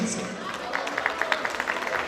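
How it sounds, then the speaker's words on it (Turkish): A crowd at a 2016 village association night in Çakırçalı claps for the Zile Associations Federation. A burst of quick, scattered handclaps builds in the middle and carries on under someone talking. "Alkışlar Zile Dernekler Federasyonu için"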